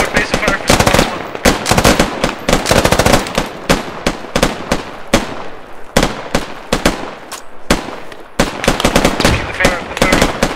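Squad covering fire in a combat video game: rapid bursts of automatic gunfire, loud and close, crackling in long strings with brief gaps between volleys, some single shots and occasional voices mixed underneath.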